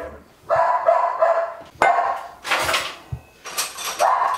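Several dogs, one of them named Iggy, bark in a home in repeated bursts, loud and close, with short pauses between volleys and a brief clatter partway through.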